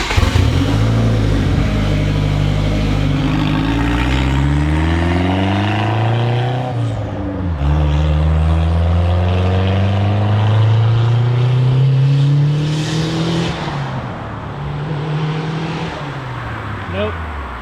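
A turbocharged mid-engine Mitsubishi Eclipse engine revs hard on a boost test, its loud, close pitch sweeping up and down through several runs and falling away near the end.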